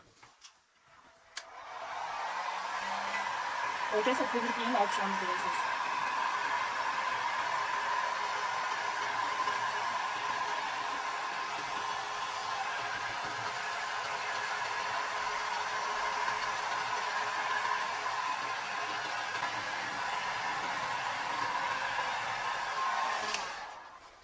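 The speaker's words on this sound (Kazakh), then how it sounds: "енді феннің көмегімен фенмен үрлеп шығатын боламыз" A hair dryer blows steadily over a handmade resin geode, making a loud, even whoosh that lasts throughout after a brief start-up, with a short spoken phrase near the beginning.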